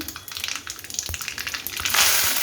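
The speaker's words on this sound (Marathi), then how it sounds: "सगळ्यात आधी टाकूया जिरे नंतर टाकूया मोहरी आणि आता जिरे मोहरी लाल झाली आहे चांगली" Cumin and mustard seeds sizzle and crackle in hot oil in a pan, a close continuous frying hiss with sharp pops that swells louder toward the end.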